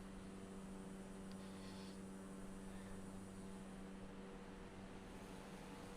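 A Cessna 208 turboprop engine in the flight simulator Microsoft Flight Simulator 2020 hums steadily at a constant, even drone throughout, quiet and unbroken with no talking.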